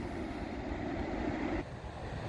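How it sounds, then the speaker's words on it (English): Steady wind roars and buffets the microphone on a cold beach, a dense continuous rush with a low surf-like rumble underneath, easing slightly near the end. "it is windy and cold"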